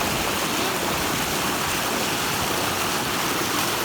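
A stream at MeenpidiPara, Kerala, flows over rocks, heard up close as a constant, dense rushing wash with no pauses or voices.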